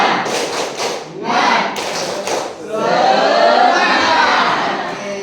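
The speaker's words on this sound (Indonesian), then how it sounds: "Alvin pimpin teman-temannya untuk tepuk semangat dulu ya" Schoolchildren in a primary school classroom perform the tepuk semangat spirit chant, with bursts of rhythmic group clapping and shouted voices giving way to a sustained, loud crowd of children cheering and clapping together.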